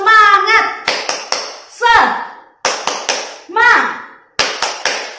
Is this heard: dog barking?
no